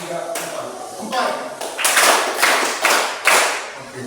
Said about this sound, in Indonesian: ini tepuk konsentrasi ya